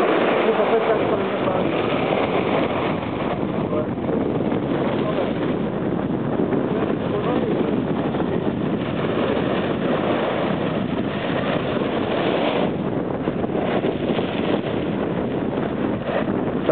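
Rough, stormy sea off the Croatian coast with strong wind buffeting the microphone and a boat working on the water, a dense, steady roar of wind and waves throughout.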